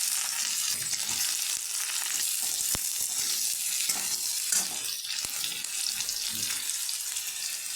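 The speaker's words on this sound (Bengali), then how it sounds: "এবার আমি পেঁয়াজটাও ভেজে নেব।" Onions fry in hot oil, giving a steady close sizzle with occasional stirring scrapes and a few sharp clicks, no one speaking over it.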